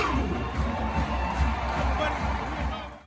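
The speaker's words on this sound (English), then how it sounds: "now repeat and cheer for the orange and blue!" A crowd cheers for the Florida Gators, a loud, continuous roar of shouting and whooping voices filling the space.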